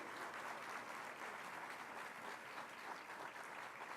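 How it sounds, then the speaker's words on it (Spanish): At an education congress, an audience applauds a choir group from Inmaculada Concepción after their performance, a steady, even wash of clapping lasting about four seconds, moderately distant, with no voices heard. "Fuerte aplauso para ellos"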